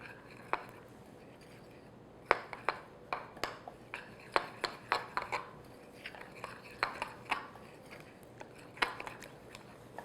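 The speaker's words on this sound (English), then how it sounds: "Just stir it together." A spoon stirring light cream into vanilla bundt cake batter in a bowl, giving soft, irregular clinks and taps against the bowl, quiet and close, with occasional brief talk.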